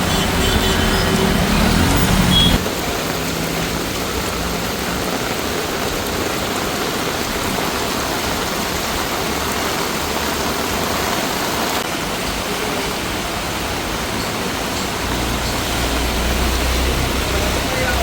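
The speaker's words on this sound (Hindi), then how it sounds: "मुंबई में 24 घंटे से मूसलाधार बारिश।" Torrential monsoon rain pours steadily over Mumbai, a dense continuous hiss that stays loud and unbroken throughout, with a brief heavier burst at the start.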